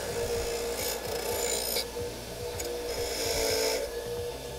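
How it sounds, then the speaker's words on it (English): Steady abrasive scrubbing of rust off axle parts from a 1988 Toyota van, a continuous rough rasping with rhythmic back-and-forth strokes, close and fairly loud with no talking. "Right now I'm gonna clean the rust off of these guys."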